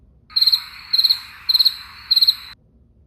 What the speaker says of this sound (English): Insert crickets.